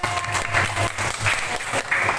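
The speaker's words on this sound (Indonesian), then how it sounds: "Tepuk tangan untuk Kiandra." A crowd claps steadily, a brief burst of applause from many hands at close range.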